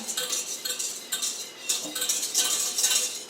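A whisk stirs two cups of hot chocolate with marshmallows in a pot, making a steady, close run of light metallic scraping and clinking strokes with no talk.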